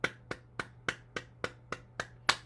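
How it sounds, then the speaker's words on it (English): Hands clap in an even, steady rhythm during a tapping and cupping exercise, nine sharp close claps spaced about a third of a second apart, the last a little louder. "Clapping again."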